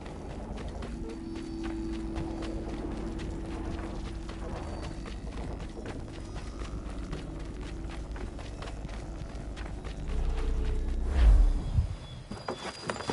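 Horse hooves pound steadily in the Assassin's Creed 3 video game as a galloping horse carries two riders, a continuous rumbling beat with creaking and clattering that swells toward the end.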